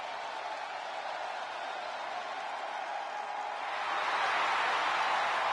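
A simulated arena crowd in a WWE 2K wrestling game gives a steady wash of cheering and applause that swells louder toward the end.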